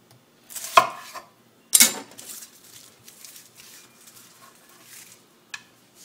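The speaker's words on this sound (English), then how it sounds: "And cut it kind of thin, but I'm going to do like thin ringlets." A knife chops half of a large onion into thin rings on a board, two sharp strikes followed by a run of quieter cuts and a final tap, close and clear, for a pork stir fry cooked in cast iron.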